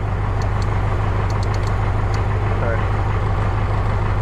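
An MTZ-80 tractor diesel engine running steadily at a low idle of roughly 600 rpm, a loud continuous low rumble with a throbbing beat throughout, no change in speed and no talk.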